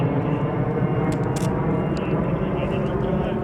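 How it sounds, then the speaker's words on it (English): A fixed-wing airplane passes overhead outside near a secured gate, its steady broad engine roar continuous and fairly loud throughout, with faint voices in the background. "All right, we'll wait for that plane to pass."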